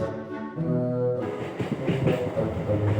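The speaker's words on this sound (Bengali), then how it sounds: "উঠতে না পারা যাত্রীদের কড়ি আঙুল দেখিয়ে এগিয়ে চলল ট্রেনটা।" A local train moving off, a rumbling rolling drone with low harmonic hum that builds into a busier clatter of wheels and carriages, close and continuous.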